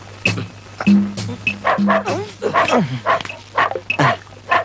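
A person imitates a dog with a string of short, barking yelps and growly sounds, close and fairly loud, mixed with voiced bits that sound like talking.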